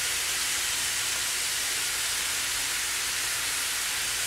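A pat of butter, about a tablespoon, sizzles in a hot pan while breakfast cooks, giving a steady, even hiss that carries alone throughout.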